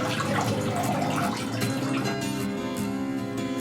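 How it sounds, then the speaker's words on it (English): Urine poured from an upturned catheter bag into a toilet, a steady close splashing pour of liquid running continuously for a few seconds with no talking. "pour the urine off into the toilet."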